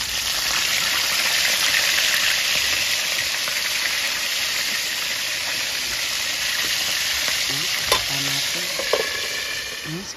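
Siprat fish frying in a pan, a steady dense sizzle crackling throughout at close range, with occasional stirring clatter and faint background noise; nobody speaks.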